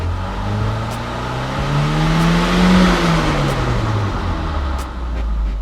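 A Ford Focus RS engine idles after a direct-injection fuel pump install: a loud, steady close-up drone with a slight swell in the middle and no voices.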